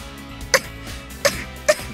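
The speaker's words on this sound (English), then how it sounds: "She breaks into a coughing fit again." A young woman in a KIRA☆KIRA visual novel game has a coughing fit: three sharp, close coughs spaced unevenly over soft background music.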